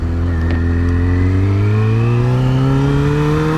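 A 2003 Yamaha R6 motorcycle fitted with changed sprockets revs loudly and close, its engine note rising smoothly and steadily in pitch throughout without a break.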